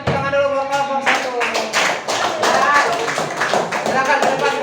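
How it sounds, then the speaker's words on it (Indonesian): A classroom of students claps for a presenting group, loud close uneven claps and taps in bursts, with voices chattering over the clapping. "Ayo kasih tepuk tangan dulu buat kelompok 1."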